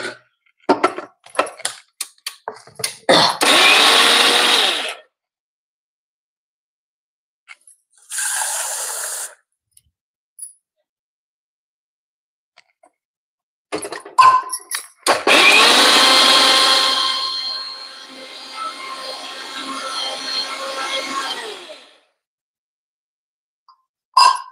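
A mixer grinder grinds roasted coconut for dal in several loud, whirring bursts separated by silence, with a short pulse between two longer runs and some clacks of handling between them.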